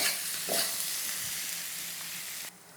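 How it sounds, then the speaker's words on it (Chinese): Twice-cooked pork, sugar just added, sizzles hard in a hot wok, crackling loudly for a couple of seconds with a stir scrape before it cuts off abruptly. "再炒一炒就可以上了"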